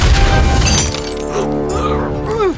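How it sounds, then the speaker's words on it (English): A loud magical shattering effect, a burst of breaking glass-like crackle that decays into shimmering ringing tones, with a faint voice near the end. "Thanos immediately shattered the magic with the power of the stones."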